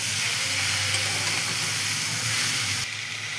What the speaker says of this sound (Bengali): এরপর দেবো হালকা একটু লবণ, একটু হলুদ আর একটা টমেটো। এটাকে ভালো করে কষি।